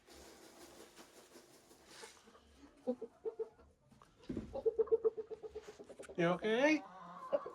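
Chickens clucking in a barn on a homestead in winter, a rapid run of close clucks and squawks rising toward the end, with a person speaking briefly among them.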